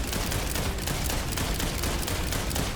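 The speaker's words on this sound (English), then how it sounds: "How fast can I fire this? Still, pretty much as fast as I can pull the trigger." Rapid gunfire from a weapon in the video game Borderlands 4, a dense, continuous burst of shots fired as fast as the trigger can be pulled, loud and unbroken throughout with no pauses.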